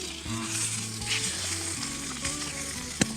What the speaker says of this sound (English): So there's so much heat and there's less lubrication, and hence the sausages are burning.